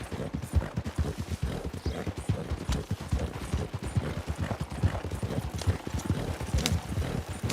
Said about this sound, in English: He's going across the river. I'm sure that cold water against that horse is probably a little bit refreshing.